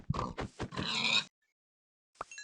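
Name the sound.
pig oinking in Minecraft video game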